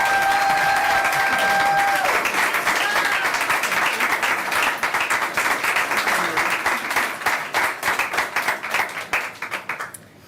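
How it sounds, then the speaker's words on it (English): Loud, dense applause from a seated audience at a grand opening as a speaker walks to the podium, sustained for several seconds and then thinning into scattered claps before stopping. "I'd love a really loud round of applause for Judy as she comes up to the podium."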